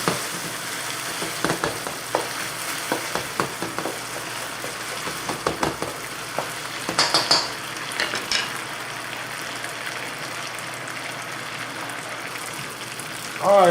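Beef sizzles and fries while browning in a pan for beef and broccoli, with a steady crackle and intermittent louder spatters and stirring scrapes, close and continuous.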